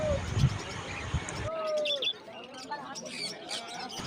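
Cockatiels and other small birds at a crowded outdoor bird market chirp and tweet in scattered bursts, with background crowd noise and a brief voice early on.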